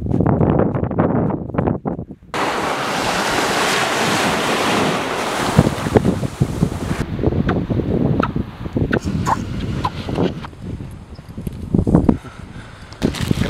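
Sea waves breaking on the shore under gusty wind with a storm approaching, loud rushing surf and buffeting wind noise, surges and crashes rising and falling.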